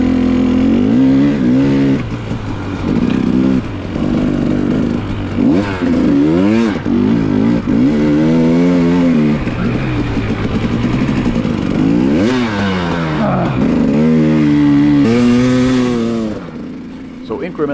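A dirt bike engine revs hard and unevenly while struggling through soft snow, loud and close, with rising and falling throttle bursts and mechanical clatter throughout.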